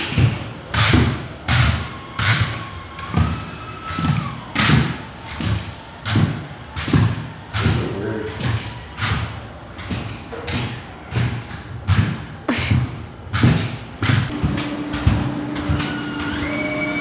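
Motorized AI shoes stomping along in loud, heavy thumping steps, a regular walking rhythm of strong thuds with a faint whine and clatter between them.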